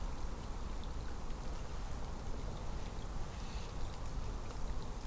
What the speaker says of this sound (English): the rain has turned pretty miserable